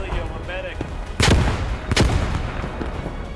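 A frag grenade blast in the World War II shooter Post Scriptum, two loud booming explosions about a second apart, the second sharper, over ongoing battle noise with a faint voice early on.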